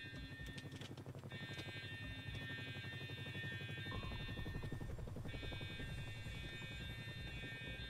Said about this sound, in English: here comes the Chinook